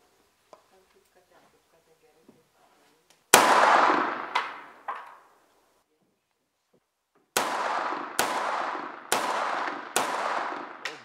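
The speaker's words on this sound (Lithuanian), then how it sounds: "Laidos vedėjos rankose pats rimčiausias pasaulyje ginklas – Kalašnikovo automatas." Kalashnikov assault rifle fired in short bursts: one loud crack with quick follow-up shots, a pause, then four sharp, evenly spaced reports ringing close by with reverberant tails.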